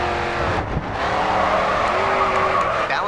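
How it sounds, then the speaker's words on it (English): A car drifts through a corner in the Race Driver GRID 2 video game, its tires skidding and squealing steadily over loud engine drone for about three seconds. "Next corner, let's see a drift."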